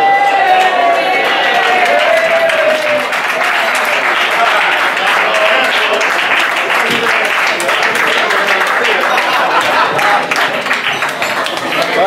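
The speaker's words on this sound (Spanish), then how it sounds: "Un aplauso" Loud, continuous crowd applause at a historic vehicle rally prize-giving, dense clapping with some cheering, and a voice speaking over the start as the ovation carries on steadily.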